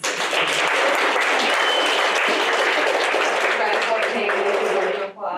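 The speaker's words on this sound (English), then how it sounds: "So we're going to start with an applause." An audience at a branding talk breaking into sustained applause, dense and loud from the start, holding steady for about five seconds before dropping off abruptly.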